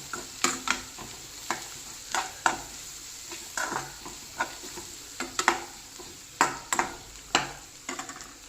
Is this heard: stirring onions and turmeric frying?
yes